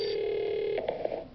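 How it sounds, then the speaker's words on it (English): A telephone line gives a steady tone that then breaks into a quick run of short dialing beeps as a call is placed, heard alone at moderate volume. "taking a telephone call"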